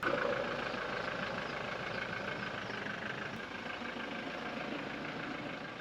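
A vehicle fitted with a rooftop tent idles with a steady, even engine rumble at a riverside campsite on the Orange River at Khamkirri while it is being repositioned. The engine drone holds constant throughout, with no talk.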